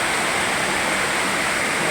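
A downpour in Dasmariñas, Cavite drums steadily, a thick, close, unbroken rush of falling water with no speech over it.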